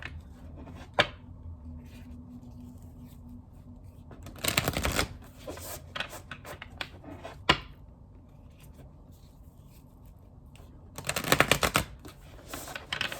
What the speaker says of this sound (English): I'm giving 3 shuffles every time for all these readings